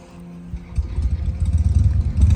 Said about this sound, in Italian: c'è una moto, ragazzi, che si è messa in moto, appunto, e ha rimbombato il motore dentro il campanile